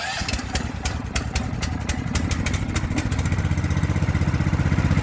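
A Snowrator's small engine cranks and starts with choke on and key turned, then runs in a steady loud chugging rhythm that grows slightly stronger toward the end, close to the microphone, with no talk.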